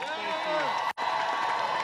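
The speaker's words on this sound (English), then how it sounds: "a big round of applause for Congressman Don McEachin" Outdoor rally crowd at a march applauding and cheering for a congressman, a broad wash of clapping and voices with a brief drop midway, fairly loud and close.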